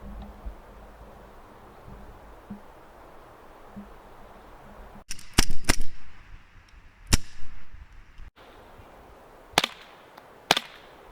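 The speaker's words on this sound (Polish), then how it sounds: "oddajmy pierwszy strzał do tej jakże pięknej szybki" An airsoft gun fires at an armored glass pane outdoors: after a few seconds of quiet background, about five or six sharp, loud cracks arrive a second or two apart, with no one speaking.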